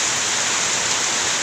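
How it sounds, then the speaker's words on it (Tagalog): Heavy typhoon rain pours down in a dense, steady roar of hissing water, with no other sounds standing out. "sobrang naglakas talaga yung ulan. Mas lalong lumalakas"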